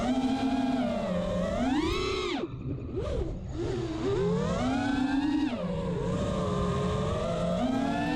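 An Ovonics-powered FPV quadcopter drone flies with its motors running, giving a loud continuous whine that rises and falls in pitch with the throttle and dips sharply twice, close by throughout.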